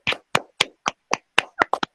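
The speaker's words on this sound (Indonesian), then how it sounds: "Kasih tepuk tangan dulu untuk kelompok kedua." A class gives a short round of hand claps for a student group, about nine sharp, separate claps in an uneven rhythm, close and loud with no talk over them.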